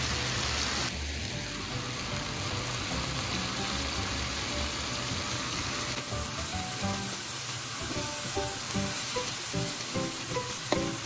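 Loud, steady sizzling and frying from a seafood paella pan as tomato paste is added, with a constant hiss, some stirring and faint clinks running throughout.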